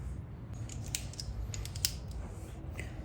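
A wrench loosens 10 mm bolts on the side of a 2011 Kia Soul 1.6 engine during cylinder head removal, giving faint clicks and scrapes of metal over low, steady background noise, with no talk.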